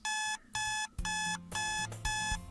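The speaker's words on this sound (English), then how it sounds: "Again with the alarm on weekends." In the Doki Doki Literature Club video game, an alarm clock rings in rapid repeated bursts of bright electronic beeping, five pulses with short gaps, loud and alone.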